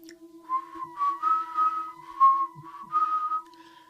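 A narrator imitates an eerie whistling with his voice, a thin wavering tune of several rising and falling notes repeated in short phrases, close and clear with no speech over it.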